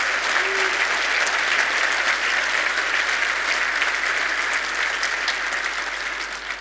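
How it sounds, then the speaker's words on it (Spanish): Audience applause at a church sermon, dense sustained clapping from a large crowd that stays strong throughout and tapers slightly at the end. "Demos un aplauso."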